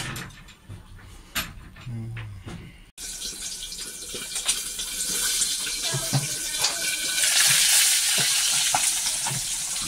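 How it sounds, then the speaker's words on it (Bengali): Fish fries in hot oil, sizzling and spattering close by, sparse crackles at first, then a sudden louder, dense hiss that keeps building and stays intense to the end. "না পারে বাবা, তেল ছটকাচ্ছে"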